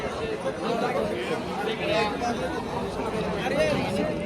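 Outdoor crowd noise at a bull race: a constant, moderately loud babble of countless overlapping voices chattering together, with small rises and falls but no clear individual speech.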